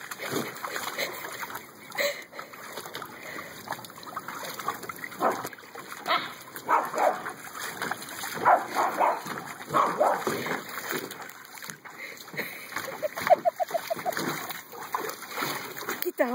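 A dog splashes about and barks at water sprayed from a garden hose by a pool, with continuous spatter, a few yips and whimpers, and people talking and laughing over it throughout.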